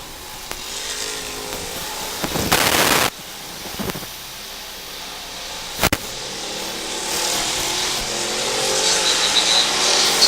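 Street stock race cars roaring around a dirt track during a hobby stock feature, engines droning steadily with sharp passes and revving surges, loud and close with no voices.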